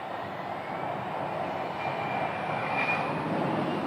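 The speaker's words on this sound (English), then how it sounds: "But this aircraft is departing, let's see, looks like 4523 departing for Burbank." A jet airliner departing Phoenix Sky Harbor airport for Burbank produces a steady, loud, broadband engine roar with a faint rising whine, heard from a distance without speech.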